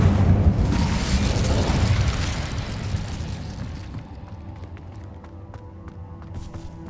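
The Incendio fire spell in Hogwarts Legacy erupts in a loud, roaring whoosh that fades over several seconds into a quieter rumble with faint clicks.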